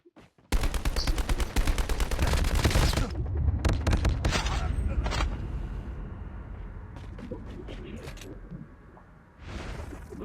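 Rapid automatic fire from a UCI gun in a Call of Duty battle royale match, a dense burst of close shots followed by scattered shots and explosions, with lingering game ambience.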